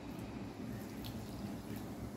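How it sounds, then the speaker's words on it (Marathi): Water poured into dhokla batter in a bowl, a faint steady trickle with soft liquid patter and low mixing sounds throughout. "थोडं थोडं पाणी टाकून मिक्स करायचं आहे"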